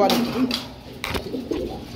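Pigeons coo at a busy pigeon market, with low repeated calls rising and falling among voices talking nearby.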